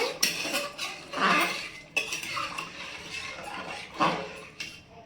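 A spoon scrapes and clinks against a cooking pot while milk and water are stirred into rice for Bengali white pulao, with brief bright metallic taps at an uneven pace, close by.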